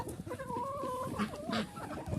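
Domestic chickens, including small bantams, cluck and croon softly inside a backyard coop in a short run of wavering calls, fairly close, with no talking.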